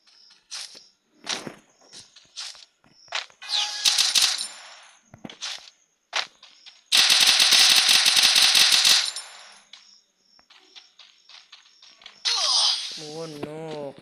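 Gunfire in a shooter video game sounds in scattered single shots and a long loud burst of rapid fire, mixed with clicks and effects, while someone talks between the shots.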